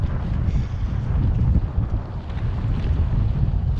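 Fishing boat running across open water in the wind, a steady loud roar of hull, spray and wind buffeting the microphone, continuous throughout with no voices.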